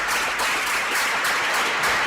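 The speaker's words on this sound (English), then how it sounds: "Please clap, sir. Please clap." An audience at a seminar claps, a steady patter of applause that holds at an even level throughout, with no voices heard over it.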